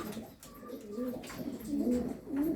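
Pigeons coo in low, rolling phrases, several soft calls overlapping at close range with faint background noise.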